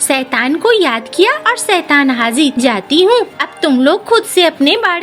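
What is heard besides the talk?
None of the usual background noises is heard.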